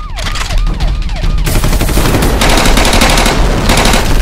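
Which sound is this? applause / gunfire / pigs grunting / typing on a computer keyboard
gunfire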